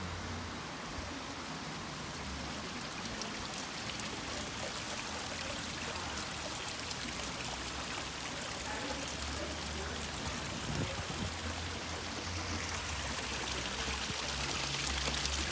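Light drizzle falls at night beside a highway near a strip mall in St. Thomas, Barbados, a steady soft hiss of rain on surfaces continuing evenly throughout with no voices.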